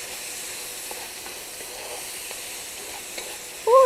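Chopped vegetables for a chicken soup base, seasoned with salt and pepper, cooking down in a pot with a steady soft sizzle and hiss and a few faint clinks.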